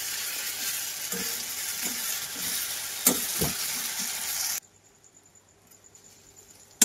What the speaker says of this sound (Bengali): রসুনটা দেখো ভাজা হয়ে গেছে